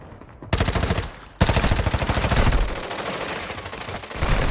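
Rapid automatic gunfire from Call of Duty Warzone Mobile on Rebirth Island, loud and sustained in two long bursts after a short lead-in, with no talk over it.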